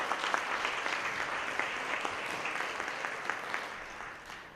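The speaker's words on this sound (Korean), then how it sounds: "큰 박수로 맞아주시면 감사하겠습니다." Steady applause from a seated audience at a pharmaceutical industry symposium in Korea, a dense even patter of many hands that holds for several seconds and eases slightly at the end.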